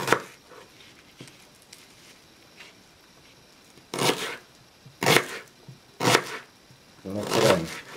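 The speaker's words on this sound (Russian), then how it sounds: "Нарезаем лук." A knife chops onion on a board for savoury pastry filling: a few faint taps, then four louder, separate crunchy cuts spaced about a second apart, close and clear.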